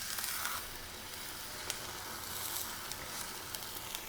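A salt-and-peppered chuck roast sears in a hot pan with a steady, fairly quiet sizzle and a few faint crackles throughout, with no speech.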